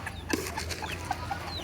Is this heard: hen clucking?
yes